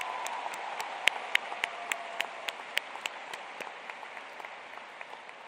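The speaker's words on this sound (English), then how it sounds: "Can you give them a round of applause, please," Audience applause at a new student convocation, a soft, distant patter of many hands clapping in a large space, steady throughout with a few sharper individual claps standing out.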